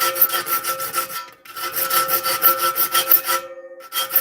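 A file rasps across a saw blade being sharpened, in quick rhythmic strokes grouped into two runs with a short pause between, close and steady, no voices.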